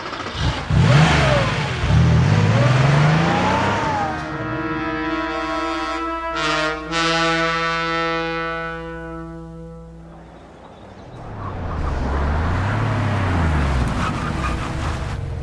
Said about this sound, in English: Careful, Jerry, that's my car!